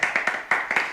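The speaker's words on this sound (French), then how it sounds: "Vous pouvez vous applaudir." Small group of people clapping after a game, a brief burst of several loud, close hand claps in an uneven rhythm with no voices.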